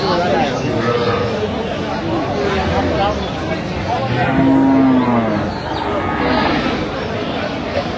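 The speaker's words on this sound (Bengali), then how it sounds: "এই তো হচ্ছে গাভী" A cow moos at a busy cattle market in Aftabganj, Bangladesh, where milking cows are sold with calves: one long, loud low moo in the middle of the clip, with crowd chatter and talk in the background.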